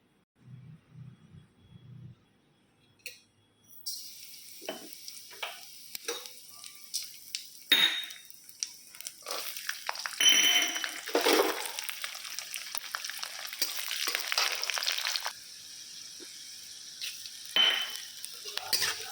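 Dry spices, green chillies and ginger dropped into hot oil, setting off a loud, steady sizzle with utensil scrapes and stirring clatter, building after a quiet start and staying close and continuous.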